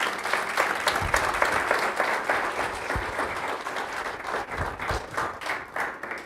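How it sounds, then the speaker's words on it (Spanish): A church congregation claps together in a loud, full burst that keeps going steadily, with a few sharper individual claps near the front as it starts to thin toward the end. "Démosle un aplauso al Señor."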